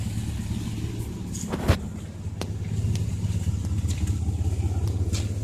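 A van's engine idles nearby with a low, steady rumble, briefly interrupted by a couple of sharp clicks or knocks before settling into an even hum.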